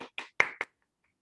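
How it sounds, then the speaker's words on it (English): A handful of sharp claps from a seminar audience welcoming a parenting speaker, four distinct slaps spread over about a second, the loudest in the middle, then silence. "Join me in applause as we welcome Mrs. Shobha Sreekumaran together"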